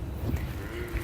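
A single low, drawn-out moo from a Gir cow, close by, with a rumbling murmur underneath.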